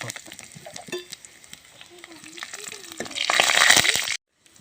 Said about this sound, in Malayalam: കുറച്ച് കടുക് ഇട്ട് കൊടുക്കാം നമുക്ക് കടുക് നല്ലോണം പൊട്ടട്ടെ